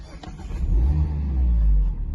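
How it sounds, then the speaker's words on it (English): A Mazda MX-5 1.5 Skyactiv-G engine turns over at a push-button start and catches, settling into a deep, throaty rumble that swells briefly then idles loudly nearby. "You hear the car come into life."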